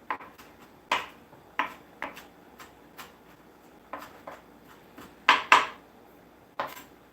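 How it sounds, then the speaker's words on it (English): A knife finely chops fresh basil on a cutting board, giving close, crisp, irregular taps, with a few louder strikes near the end and no voices. "we're just finely chopping up this fresh basil."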